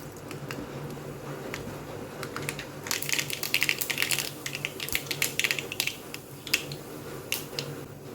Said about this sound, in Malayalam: കടുക് പൊട്ടിയതിന് ശേഷം